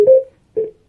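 An XDOBO BMTL Care 80W Bluetooth speaker plays its connection notification: two short, plain tones about half a second apart, close and clear.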